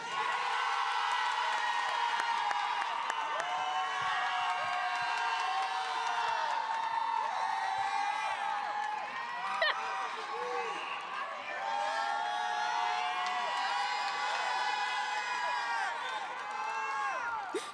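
A loud cheering squad at a Black graduation and Kente ceremony, a crowd whooping, shouting and yelling in sustained high-pitched cheers that run continuously with brief dips, voices layered over one another.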